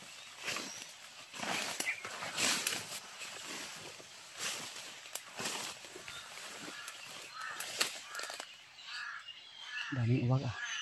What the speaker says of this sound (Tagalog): daming boses ng uwak tol.